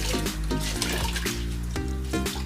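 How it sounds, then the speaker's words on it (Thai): Water trickles and drips as a cloth is dipped and wrung out for wiping dust off a wall being repainted, heard as loud, close splashing and dribbling. "ชุบแล้วบีบหมาดนะครับ หมาดเพื่อที่จะเช็ดฝุ่น ผงนะครับ"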